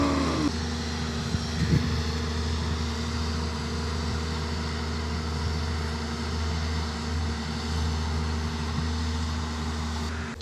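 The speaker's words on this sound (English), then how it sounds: "The tractor has just passed over" A steady low engine drone with a constant hum from a tractor passing nearby in a Kenyan village, continuing evenly with no voices.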